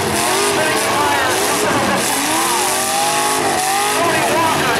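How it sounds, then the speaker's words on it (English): A truck in a demolition derby spins its tire at high revs, producing a loud, continuous whine and squeal that rises and falls in pitch over a busy crowd and a commentator's voice. "Spinning tire."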